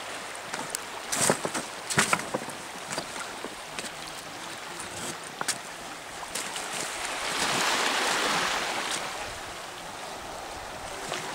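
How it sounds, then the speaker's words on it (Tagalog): Boiling water bubbles and hisses in a natural hot-spring steam bath on Camiguin Island in the Philippines: a steady, close wash of noise with scattered pops that swells louder for a few seconds near the end. "Ito ang natural steam bath."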